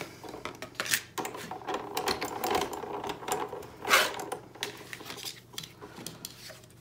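A Cuttlebug die cutting machine is cranked through a crafting run, giving a close, continuous stream of mechanical clicks, rattles and grinding ticks with a few sharper bursts, and no one speaking.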